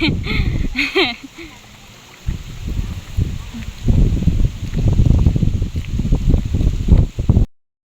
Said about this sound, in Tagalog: Malamig ang hangin ay.